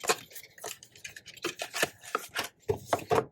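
Metal scissors clatter and knock as they are handled and set down, several short sharp clanks in quick, irregular succession.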